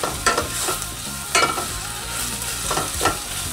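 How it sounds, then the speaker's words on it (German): Tomato paste being stirred in a pot for an Indian-style tomato soup with coconut milk, peas and onions, giving three scraping strokes over a steady low background with faint sizzling, no voices. "dann kann man anfangen, das alles untereinander zu vermischen"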